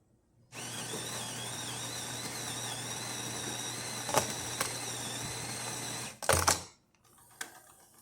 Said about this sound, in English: So now I'm going to pull a shot, show you that everything's working.